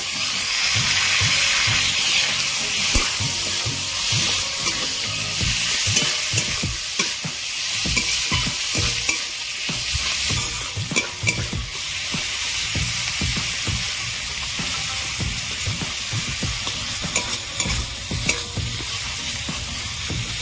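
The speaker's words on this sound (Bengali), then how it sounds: "পেঁয়াজ, টমেটো, কাঁচা লঙ্কা ভালো করে ভাজা ভাজা করে নিয়েছি।" Onion, tomato and green chilli fry in a pan with a loud, continuous sizzle and crackle. Repeated scraping and stirring strokes sound up close throughout.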